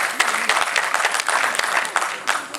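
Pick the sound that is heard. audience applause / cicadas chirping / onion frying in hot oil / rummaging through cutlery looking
audience applause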